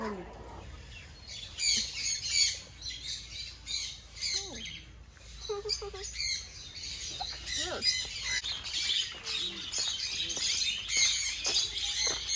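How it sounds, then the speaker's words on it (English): A Senegal parrot at a pet sanctuary gives repeated harsh squawks mixed with sharper chirps and whistles, close and fairly loud, in bursts over about twelve seconds with no talking. "Senegal parrot."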